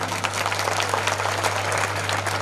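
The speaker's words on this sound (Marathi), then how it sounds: "जोरदार टाळ्या वाजवा ना" Audience applause at a village yatra gathering, a dense, steady wash of many hands clapping close by for a couple of seconds, with little else audible.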